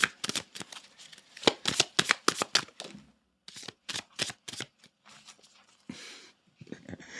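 Tarot cards from an oracle deck are shuffled in a fast run of crisp, riffling bursts, then a short pause and more uneven shuffles close by, with no talking.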